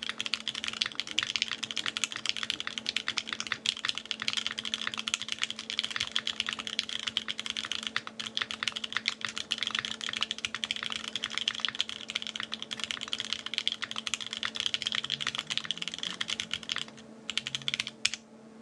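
Steady, rapid typing on an unplugged KBD67 V3 mechanical keyboard in an aluminum case, a clacky build, with dense close key clicks running continuously with no talking.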